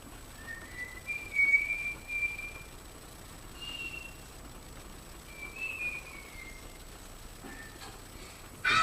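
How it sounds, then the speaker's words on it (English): A woman whistles a few short, thin melodic phrases in a quiet film scene, the notes sliding and sustained with pauses between them, fairly faint against a low background. "She's whistling."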